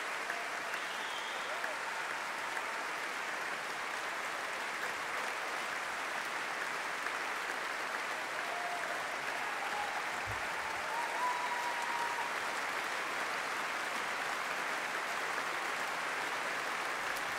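Sustained audience applause fills a concert hall at the end of an early-music performance at the Festival Oude Muziek Utrecht, steady dense clapping throughout with a voice speaking faintly over it.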